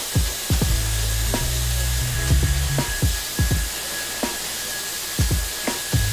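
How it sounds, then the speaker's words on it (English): A Gamma XL blow dryer set to full heat and high speed blows a steady, close whooshing roar with a thin whine. Low thumps and rubbing from hair being brushed back come and go underneath. "Got the XL blow dryer from Gamma."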